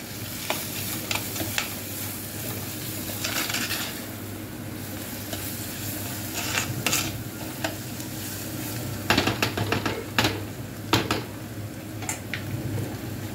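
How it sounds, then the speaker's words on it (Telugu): Turmeric powder fries in a pan with a continuous, moderate sizzle, broken by scattered stirring clicks and scrapes that grow busier toward the end. No one speaks. "పసుపు పచ్చివాసన పోయేంత వరకు ఫ్రై చేసుకుందామండి."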